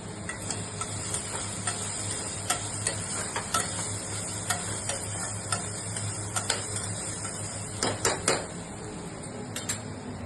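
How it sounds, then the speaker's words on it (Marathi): Grated coconut roasts in hot oil in a pan for Khandeshi-style khichdi: a steady close sizzle with scattered light ticks and scrapes of a stirring spoon against the pan. "ते खोबरं पण आपण शेकून घ्यायचंय व्यवस्थित तेलामध्ये"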